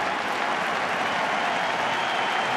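Fenway Park crowd at the 2013 World Series Game 2 applauding pitcher John Lackey, a broad, sustained roar of clapping filling the ballpark, steady and loud with no speech over it.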